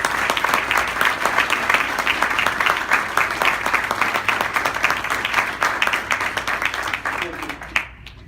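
A provincial council audience applauding the board of directors, loud sustained clapping from many hands that tapers off near the end, with some voices mixed in.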